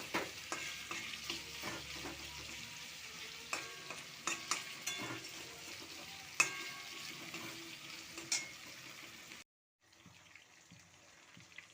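Chicken stir-frying in a pan before a cabbage stuffing for chicken vegetable pakoras, a soft continuous sizzle broken by repeated sharp spatula scrapes and knocks, then a brief silence and quieter clinks.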